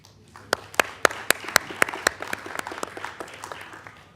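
An audience at a San Marcos city council meeting claps for people named one by one, sharp individual claps from a few hands at first, then thinning into scattered lighter clapping.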